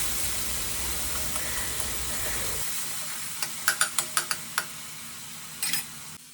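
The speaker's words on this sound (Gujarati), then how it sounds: "ડુંગળી, લસણ અને આદુની પેસ્ટ બનાવી છે તે વઘારમાં નાખી દઈશું" Coarse onion, garlic and ginger paste sizzling in hot tempering oil for a capsicum curry, a loud steady hiss at first that drops away, followed by a quick run of sharp utensil clicks against the pan.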